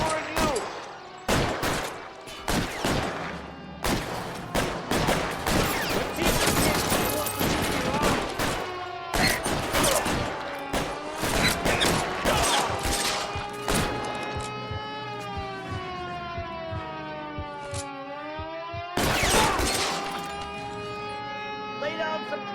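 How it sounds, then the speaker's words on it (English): Rapid bursts of gunfire in the L.A. Noire video game, dense volleys in the first half, then sirens wailing and sweeping behind further shots, with voices talking over the shootout. "Lay down some covering fire."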